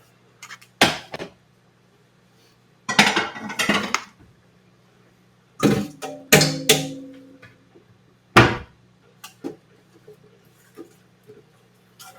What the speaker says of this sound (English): let's get another pan out and our strainer